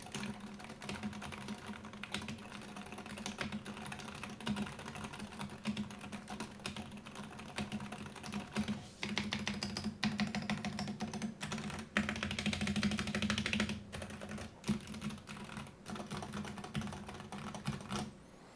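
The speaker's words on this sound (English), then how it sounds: "And here is the sound test of the keyboard." Fast, continuous typing clatters on a gaming keyboard, a dense stream of crisp key clicks and thocks heard close up and alone for the whole stretch, with brief bursts of quicker keystrokes.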